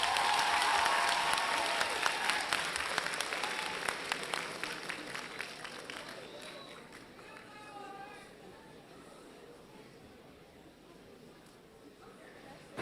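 An audience in a school hall applauds a 7A class waltz at a gymnasium dance contest; loud, dense clapping fills the first seconds, then thins and fades out as scattered voices and movement remain.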